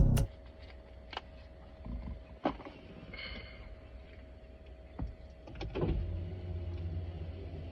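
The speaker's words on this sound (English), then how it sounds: "You gonna roll your window down for me?" A car's electric power window whirs as it rolls down during a roadside police stop, a low motor hum under sharp clicks and thumps, with the window motor surging again near the end.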